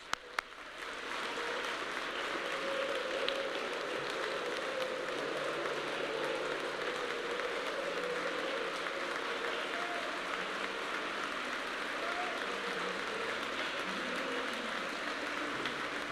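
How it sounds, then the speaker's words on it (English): Gala crowd at the E9-1-1 Institute honor awards in Union Station applauds an award recipient, a dense, even wash of clapping that starts abruptly and holds steady at moderate distance for the whole stretch. "Let's give him a round of applause"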